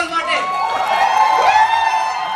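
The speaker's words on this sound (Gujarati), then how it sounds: "તાળીઓ થવી જોઈએ જોરદાર ઓજસ રાવલ માટે" A crowd at a Gujarati film premiere cheers and whoops, loud, excited shouting voices sustained across the moment with little distinct clapping.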